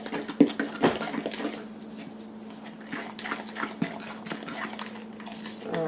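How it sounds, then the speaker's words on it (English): A fork stirring carrot cake mixture in a bowl, giving light, irregular scraping and clinking taps against the bowl, close and fairly quiet, with no talk. "I'm just going to kind of take a fork and stir that together"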